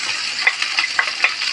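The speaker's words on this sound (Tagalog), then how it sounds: "Brown natin ang bawang." Garlic browns in a hot pan with a steady, close sizzle, broken by a few light scraping stirs.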